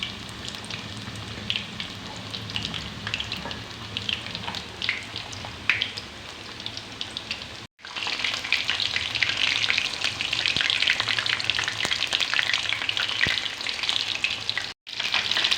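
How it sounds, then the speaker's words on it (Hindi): Chicken leg pieces frying in hot oil, giving a dense, close crackling sizzle with scattered pops, steady throughout and briefly cut twice, with no voices. "गर्म हो चुका है। अब हम इसमें ये लेग के पीस डालेंगे।"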